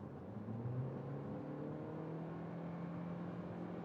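Toyota Corolla Cross accelerating from 70 to 100 km/h: a steady engine drone with rising tones and road noise, heard from inside the cabin, no talking.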